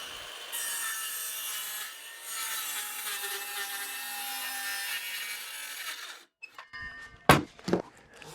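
A circular saw rips through wood with painter's tape laid over the cut line, a steady loud buzzing cut for about six seconds, then the blade spins down with a few sharp clacks and knocks.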